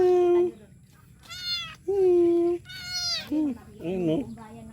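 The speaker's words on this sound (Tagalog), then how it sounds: "ang ganda ng pusa" A cat meows repeatedly nearby, several distinct drawn-out cries with rising and falling pitch separated by short pauses, over faint low background noise.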